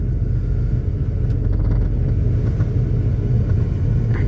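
A 1992 Ford truck engine idles steadily up close, a low rumbling drone with an uneven, slightly stumbling pulse from a misfiring spark plug running throughout.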